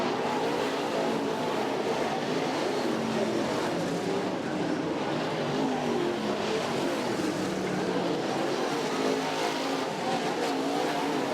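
Modified race cars roar around the East Bay Raceway Park dirt oval, a steady dense engine drone from several cars at once, loud and continuous with no talk over it.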